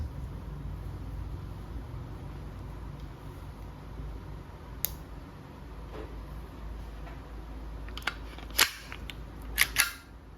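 An Umarex Glock 17 Gen 3 dual-ammo airgun fires several sharp snapping shots, one isolated crack followed by a quick cluster near the end, over a low steady background hum.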